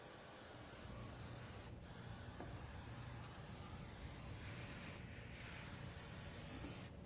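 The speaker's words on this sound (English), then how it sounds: "So we just got done spraying all the rubbers." Detailing spray misted over car rubber seals and black plastic trim on a 2004 Dodge Viper, a steady, faint continuous hiss with a few brief pauses between pulls of the trigger.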